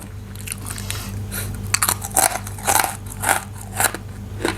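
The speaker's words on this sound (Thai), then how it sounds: "อืมกรอบดีสุดๆอร่อยด้วย" Crispy baked vegetable chips bitten close to the mic, a series of sharp crunches and crackly chewing over a low steady background hum.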